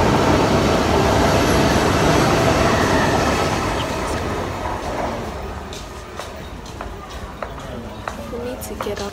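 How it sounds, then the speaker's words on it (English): A train rumbles past on the rails in Durham, loud and close at first, then fading into lighter clattering and scattered clicks as it moves away. "my train is coming soon."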